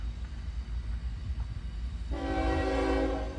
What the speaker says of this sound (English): What's coming now? Oh my god. It's another train.